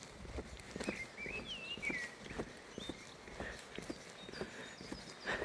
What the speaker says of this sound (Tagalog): Ang huni ng ibon.